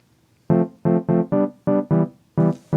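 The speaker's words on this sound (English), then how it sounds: "this is one that I've chosen to call a deep synth" A deep synth patch played in music production software: seven short, punchy low notes in a choppy uneven rhythm, loud and dry with no voices.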